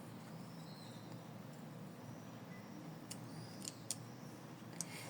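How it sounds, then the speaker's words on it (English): Scissors trim an embroidered in-the-hoop cloud, a few faint, crisp snips near the end after quiet background hum, no talking. "we need to trim it, caring not to cut the loop here too."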